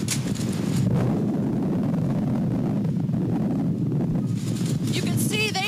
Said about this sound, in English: Category 2 wind, they say it can create moderate damage, a little more intense